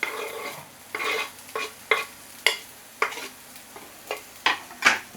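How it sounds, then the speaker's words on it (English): Chopped onions fry in a pan, with a series of short, uneven stirring scrapes and sizzle bursts close by and no one talking. "And then I'm gonna put the onions inside the pan."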